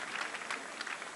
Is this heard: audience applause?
yes